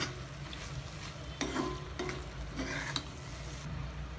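A spoon stirs dal through manathakkali pachadi in a pan, giving soft scraping strokes with a few brief clinks over a low steady background, close and fairly quiet.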